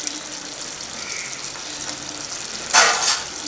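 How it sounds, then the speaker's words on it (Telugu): Fried dried fish dropped into a pan of simmering brinjal curry: soft, quiet bubbling, then a short, louder splashy sizzle as the pieces go in near the end. "ఇప్పుడు ఇలా ఉడుకుతున్న దాంట్లోని ముందుగా మనం ఫ్రై చేసి పెట్టుకున్న మెత్తళ్ళు ఉన్నాయి కదా, మెత్తళ్ళు కూడా వేసేసుకుందాం ఇందులోని"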